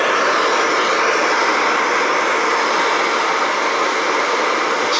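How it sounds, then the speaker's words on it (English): A torch roars with a steady, broad hiss close by while heating the power steering pump pulley on a 1997 Jeep Wrangler TJ 2.5, continuous and unbroken throughout. "I'm going to take this pulley, I'm going to heat it up just a little bit."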